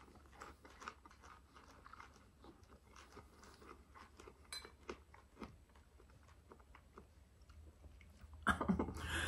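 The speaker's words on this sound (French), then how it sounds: "pendant que je mange de la laitue" Fresh, crunchy lettuce is chewed close to the mic in quick, repeated crisp bites, faint and steady, ending with a sharper, louder burst of crunching.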